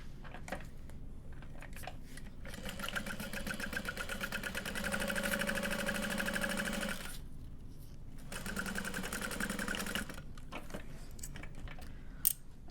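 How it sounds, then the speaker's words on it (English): A sewing machine stitches a 3/8 inch seam on a fabric bowler bag, running in quick whirring bursts with short pauses between, close and fairly quiet, with no talking. "we're gonna sew that at a 3/8 inch seam allowance the entire way."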